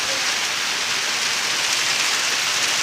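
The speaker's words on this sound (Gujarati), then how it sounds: "વરસાદ ફૂલ ચાલુ થઈ ગયો છે" Heavy summer rain pours down steadily over a sorghum field, a loud, dense, unbroken hiss of drops with no voices.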